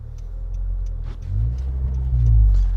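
A 9th-generation Honda Civic Si with a Yonaka exhaust rumbles steadily at close range, its deep drone swelling twice as the engine revs up after a downshift, with no talking.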